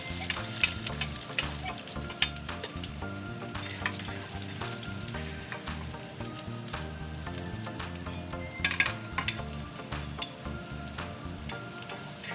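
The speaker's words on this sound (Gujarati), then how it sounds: "ગેસની ફ્લેમ તમારે હાઈ જ રાખવાની, જેથી કરીને ડુંગળી થોડીક સરસ પાકી જાય" Onions and curry leaves frying in hot oil over a high gas flame for a Kathiyawadi ringna no olo, giving a steady, dense sizzle throughout with occasional light clinks.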